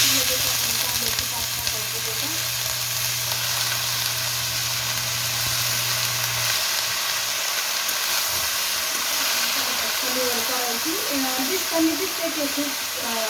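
Spring onion greens sizzle in a hot pan with garlic, cumin and red chili powder on a high flame, a steady broad frying hiss that runs the whole time, with scattered crackles and an occasional low hum.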